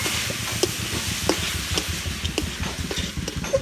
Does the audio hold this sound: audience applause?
no